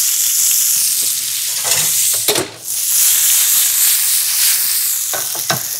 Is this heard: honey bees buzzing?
no